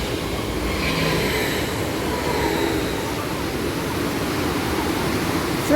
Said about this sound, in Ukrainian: снова потяг едет.